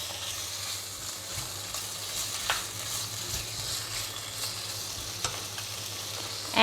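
Prawns stir-frying in a pan with kaffir lime leaves give a steady, even sizzle, close and moderately loud, with the occasional scrape of stirring and no talking.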